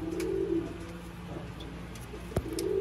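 Sialkoti pigeons with pearl-marked eyes coo in a low, throaty, rolling pattern, a close pair of long coos with a softer one between, over steady background noise.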